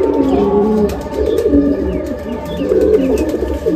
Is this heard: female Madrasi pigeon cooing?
yes